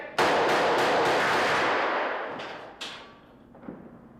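Gunfire crackles loudly on a RoboCop film set, where squib bullet hits burst on the actors, in a rapid sustained burst of shots with a close, dense roar that fades away after about two seconds, followed by a couple of isolated thuds.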